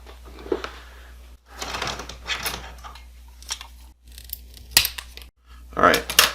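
Small scissors or snips make several sharp cuts during an Apple Watch battery replacement, brief crisp snips scattered between short silences, with a person talking.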